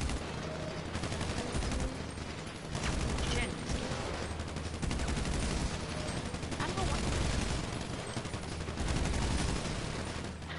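Video game gunfire: dense, rapid bursts of shots and automatic fire continue loud and steady throughout, with players' voices talking over the shooting.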